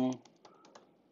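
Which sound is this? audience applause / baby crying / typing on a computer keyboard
typing on a computer keyboard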